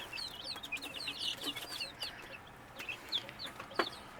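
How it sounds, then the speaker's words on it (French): Young chicks chirping and peeping in a farm setting, many quick high cheeps overlapping at close to moderate distance, fairly faint over a quiet background. "Que je vais vous montrer les poussins."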